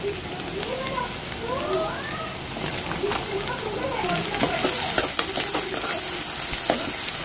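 Crushed garlic and chopped onion fry in a pan with a steady, close crackling sizzle that runs throughout, with faint chirping and a few sharp clicks in the background.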